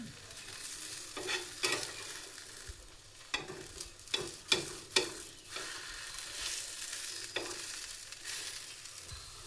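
Vegetable and greens thalipeeth cooking slowly on a hot pan, a soft steady sizzle with scattered scraping and clinking from a spatula, close and alone without talk.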